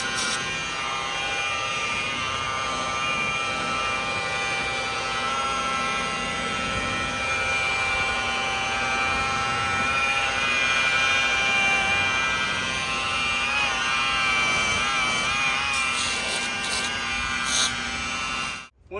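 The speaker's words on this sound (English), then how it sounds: "So I like to angle my buffer cutting into that edge." A rotary buffer polishes car paint with Starke Level R heavy cut compound, its motor whining in a continuous close drone with small shifts in pitch as the speed changes, then stopping abruptly.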